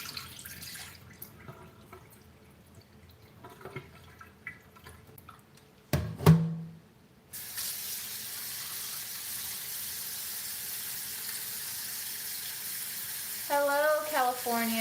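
Salmon rinsed under a running kitchen tap: scattered drips and light handling at first, then a steady, close hiss of flowing water that fills the second half, with a brief clatter just before it starts.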